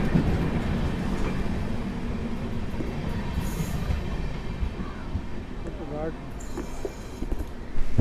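A local train on the Gurugram to Delhi Junction route rumbling past very close by, a steady loud roar of wheels and carriages with faint squeals, heard from aboard another train while people talk.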